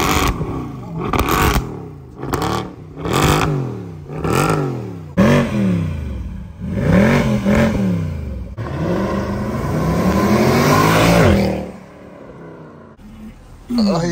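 A Mercedes C63 AMG W204 with a 6.3 V8 and quad exhaust pipes revs and accelerates hard in repeated bursts, each rising pull ending abruptly, followed by a long sustained loud run and then a quieter idle.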